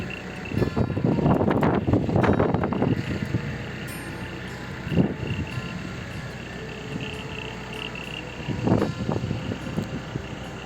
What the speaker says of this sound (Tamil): இதில் காற்றடிக்கும் அதை நோட்டீஸ் பண்ணி பாருங்களேன் எப்படி காற்றடிக்குதுன்னு